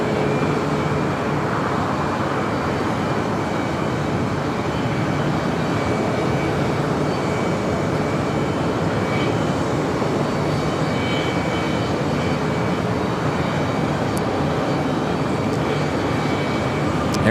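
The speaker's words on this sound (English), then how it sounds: "Air Canada 737 MAX 8 now rolling down 25 right." An Air Canada Boeing 737 MAX 8 rolls for takeoff on runway 25 right at LAX, its jet engines producing a steady, loud, broadband roar that holds for the whole stretch without letup.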